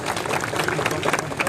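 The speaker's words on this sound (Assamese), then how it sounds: "সকলোকে হাত চাপৰি বজাবলৈ অনুৰোধ জনালোঁ" Audience applause at an outdoor student-union protest rally, a dense burst of many hands clapping close and steady throughout, with a murmur of voices underneath.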